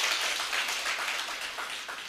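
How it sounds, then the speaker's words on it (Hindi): Audience clapping at a spiritual class gathering, a steady, dense patter of many hands applauding together for about two seconds, moderately loud and continuous with no talk over it. "ताली बजाओ भाई।"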